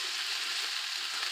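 Potatoes and onions browning in a pan give off a steady, dense sizzle up close, an even crackling hiss with no breaks or talk.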